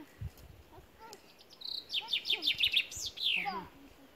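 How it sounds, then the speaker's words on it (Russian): Small birds sing in a forest on a village walk, a quick series of bright chirps and trilled phrases building to a lively burst, close and clear over quiet woodland ambience with a few soft thuds. "Птички поют."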